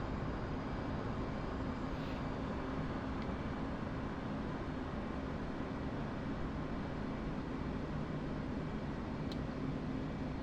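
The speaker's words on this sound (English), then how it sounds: "Hit the air brake and then hit the afterburner." Steady, loud jet roar from a fighter aircraft in a flight combat game, as the air brake and then the afterburner are engaged, a dense continuous rush holding at constant level throughout.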